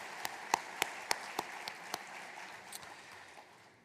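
Scattered applause from an audience at the 2023 NACD annual meeting in Louisiana: a handful of distinct, sharp claps in an irregular rhythm, thinning out and fading to quiet within a few seconds.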